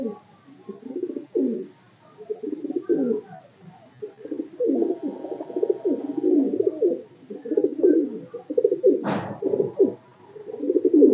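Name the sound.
Madrasi pigeons cooing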